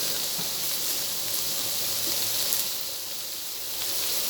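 Fish frying in an iron dosa pan on an induction stove gives a steady, soft sizzle and hiss, continuous and close, with no voices.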